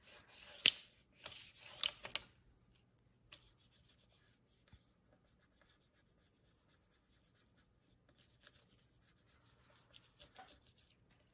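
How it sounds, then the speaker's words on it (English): An embossing tool rubs over copper foil to flatten a ridge in a stencilled peacock feather design, giving a few sharp scratchy strokes at first and then soft, faint intermittent rubbing, close up and without speech. "now I'm just going in and I am flattening that ridge"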